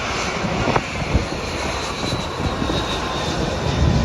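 A JetBlue passenger jet passes overhead in a city, its engine a steady, broad roar that holds loud and unbroken throughout, with no talk over it.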